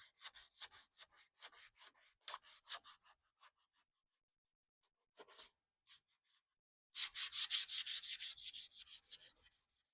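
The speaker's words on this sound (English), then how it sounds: "You can hear the pitch of your sanding change as you knock off some of that roughness." Pallet wood for a guitar is sanded by hand with sandpaper in quick rhythmic back-and-forth strokes, pausing briefly, then resuming faster and louder, close up.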